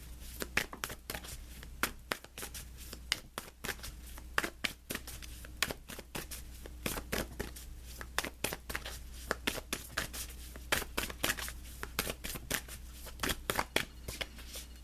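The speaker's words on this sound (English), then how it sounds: "let's pull you an additional guidance card" Oracle cards being shuffled and drawn during a tarot-style reading, a run of quick papery riffles and flicks repeating close by across the whole stretch over a low steady hum, with no talking.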